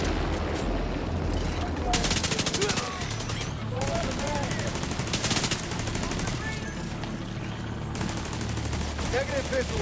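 Rapid automatic gunfire laying down cover fire in the video game The Division 2, dense bursts of shots with short pauses, loud and close over a rumbling background.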